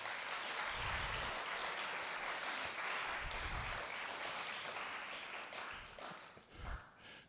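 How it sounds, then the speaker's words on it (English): Sustained applause from an audience at an academic tribute event, a dense steady wash of clapping that holds for several seconds before thinning out slightly near the end. "Can we just applaud?"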